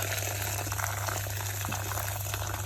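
Corn on the cob boiling in a pot of water, a steady close bubbling and rushing hiss with a low constant hum beneath it.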